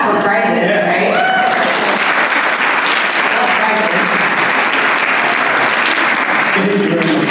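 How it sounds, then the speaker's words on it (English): An audience at an annual business meeting bursts into sustained applause, a dense, loud wash of many hands clapping steadily with no pause throughout. "we can at least clap for prizes"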